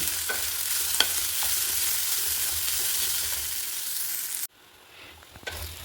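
Mango-ginger pickle mixture stirred and sautéed in a pan, a steady frying sizzle with scraping stirs throughout, cutting off abruptly near the end to quieter hiss and a couple of soft clinks.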